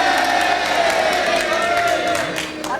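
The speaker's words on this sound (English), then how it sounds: "The cheers have it!" Studio audience of a TV panel game cheers loudly and continuously, a dense roar of voices with whoops, sustained for a few seconds and tapering slightly at the end.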